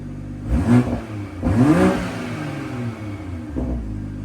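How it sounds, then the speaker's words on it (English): A BMW B58 engine with a G42 downpipe revs up twice in comfort mode in quick bursts, rising and falling, then a softer third blip near the end, close and fairly loud. "now we're gonna do some comfort mode revs"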